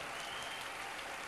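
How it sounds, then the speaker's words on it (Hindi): Audience clapping at a religious gathering at Bageshwar Dham, a dense, steady wash of applause that holds evenly for the whole brief moment with no break. "जोरदार ताली बजाकर इस बिटिया को साधुवाद करो"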